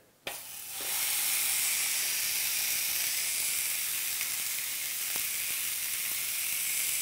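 Meat sizzles on a T-fal Optigrill electric grill. A sharp contact crackle starts it, then a loud, steady hiss holds for several seconds with a few faint pops.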